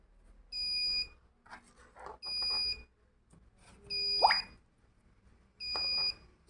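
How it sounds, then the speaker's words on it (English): A buzzer alarm on an Arduino gas-sensor setup sounds in four separate high-pitched bursts, each lasting about half a second to a second. They come with uneven gaps, and faint clicks and handling noises fall between them. "Buzzer also alerting."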